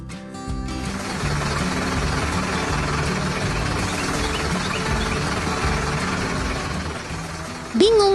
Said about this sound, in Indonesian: Tapi mesin itu terus bergerak cepat.